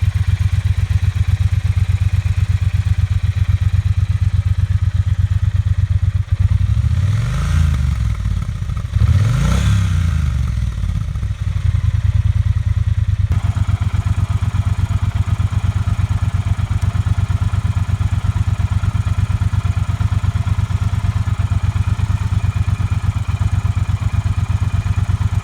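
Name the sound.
Triumph Bonneville T120 motorcycle exhaust while riding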